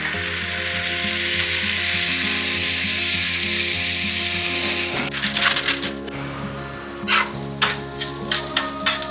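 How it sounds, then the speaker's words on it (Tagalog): Onions sauté in a hot pan, a loud continuous sizzle that cuts off about halfway, then gives way to scattered clinks and scrapes of stirring. "Kaya ginigisa ko muna rin yung sibuyas."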